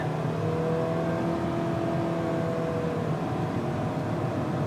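A 2011 Nissan Sentra S with 9000 miles accelerates at full throttle from a stop, its engine a steady, droning whine rising smoothly from inside the cabin, with no talking.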